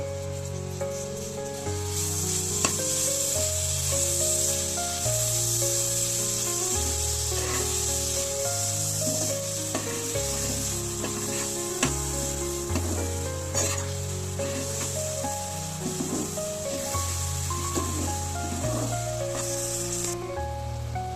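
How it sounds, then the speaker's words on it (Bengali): Grated coconut stirred into melted jaggery in a pan for a rice-flour pitha filling, a continuous soft scraping and sizzling with rhythmic spatula strokes, close and steady, accompanied by background music. "আমার গুড়টা গলে গিয়েছে, তো এবার আমি নারকেলটা দিয়ে দিচ্ছি।"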